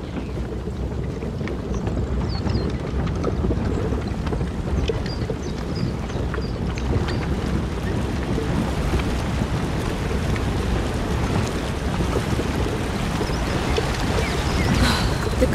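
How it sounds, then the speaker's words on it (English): Strong river current in A Plague Tale: Innocence, a steady, full rush of flowing water with a constant broad roar that holds evenly throughout. "The current's too strong."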